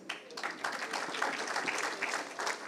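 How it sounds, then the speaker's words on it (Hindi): A live audience applauds veteran actor and former MP Paresh Rawal at a public event in India, a dense, fairly steady wash of clapping lasting a few seconds with no voice over it. "Please give a round applause for Padmashri Shri Paresh Rawal ji."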